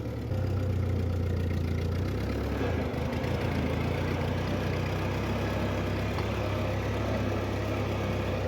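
A 1950 Ford 8N tractor engine runs steadily while the tractor is driven, a loud, close, rough low rumble with a constant drone and no talking.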